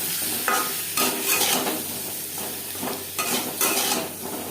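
Potato pieces fry with turmeric and salt in a pan for a rui fish curry, sizzling steadily up close while a spoon stirs and scrapes in repeated bursts.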